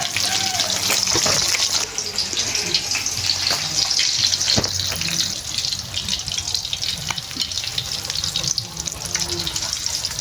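Steady, loud sizzling of food frying in a pan, with bright hissing throughout and occasional clinks, no one talking.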